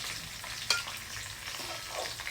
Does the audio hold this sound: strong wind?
no